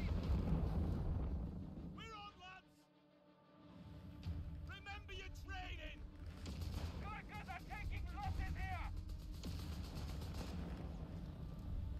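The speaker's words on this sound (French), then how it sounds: "Merde, la grenade." Grenade blast and gunfire on an Italian campaign battlefield in Company of Heroes 3, heavy booms and rumbling shots under frequent shouted voices, with a brief quieter dip before the noise returns.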